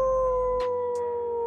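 A person imitates a dog howling with a steady, sustained tonal howl that holds nearly level throughout, close and alone, with a few faint breathy bursts around it.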